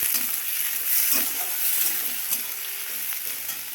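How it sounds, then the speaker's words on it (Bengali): Fish heads fry in plenty of oil with onion, green chillies and dried chillies, a constant close sizzle and crackle with occasional stirring scrapes and no talk. "এবার এর মধ্যে দিয়ে দেবো পেঁয়াজ, কাঁচা লঙ্কা, শুকনো লঙ্কা দিয়ে এটাকে ভাজা ভাজা করবো"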